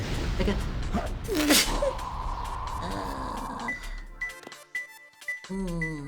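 A person lets out one sharp, loud sneeze near the start, up close, followed by a short exclamation and game sounds with electronic tones during a Sonic Adventure 2 session.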